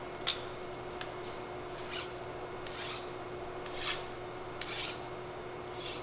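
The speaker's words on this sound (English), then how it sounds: "file a little bevel around there" A metal file cuts a small bevel around a ramrod tip in repeated rasping strokes, evenly spaced and close, with no voices.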